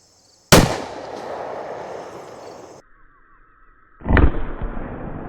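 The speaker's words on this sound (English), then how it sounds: "I got us 1 VMAX loaded up here. We'll see if we can pop that bottle with the boom on it." A Palmetto State Armory 5.7 Rock pistol fires a VMAX round outdoors: one loud, sharp crack that rings out and decays. A second loud burst follows a few seconds later, with no talking.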